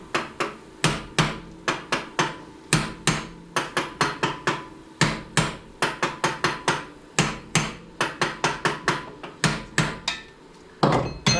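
Repeated sharp metallic blows of a hammer striking a metal rod, loud and close, coming in quick irregular bursts with brief pauses between groups of strikes.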